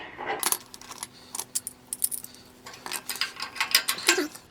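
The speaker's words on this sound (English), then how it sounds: "So then I put a flat washer on" A metal flat washer slides onto a 10mm bolt while assembling a Clarke CML3 foot-pedal motorbike lift, giving a series of small, close, bright metallic clinks and taps in a quiet workshop.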